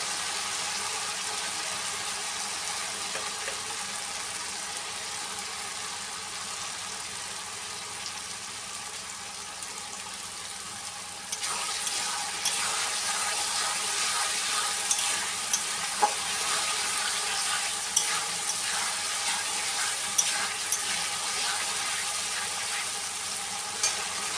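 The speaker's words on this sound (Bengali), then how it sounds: "এখন টমেটোগুলো দিয়ে দেবো।" Tomatoes hit a hot pan and cook, a quiet background sizzle that jumps to louder, busier frying partway through, with scattered clicks and scrapes of stirring.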